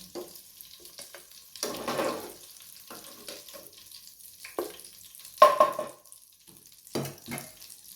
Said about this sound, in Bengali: এভাবে পুরো চিকেনটা আপনারা ফ্রাই করে নেবেন।